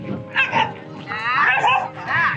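Small dogs at an off-leash dog park in Canada give short yips and barks up close, several bursts in quick succession over a busy outdoor background.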